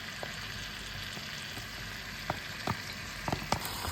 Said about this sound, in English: You can see that the marinated beef is being fried.